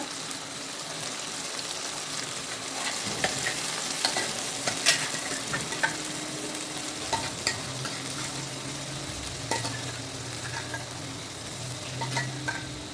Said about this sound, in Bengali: এবার মশলাটা তেলের সঙ্গে কষাবো বন্ধুরা।